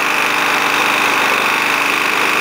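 A repaired Rover Quattro 40 lawn mower engine, smoky after sitting unused for a couple of years, runs steadily up close with a loud, continuous droning hum and rough mechanical texture, and no one speaks over it.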